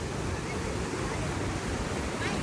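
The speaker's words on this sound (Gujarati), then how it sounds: "ક્યાં ક્યાંથી ઉપરથી પાણી આવે એમ જો" Water from Dudhsagar waterfall in Goa pours down from above in a steady, dense roar that rushes on without a break and stays close and loud throughout.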